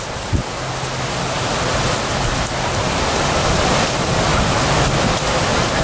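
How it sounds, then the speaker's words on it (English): Sudden heavy rain pours down in Puerto Vallarta, a steady loud hiss that fills the whole stretch without letup. "It started a fucking rain out of nowhere"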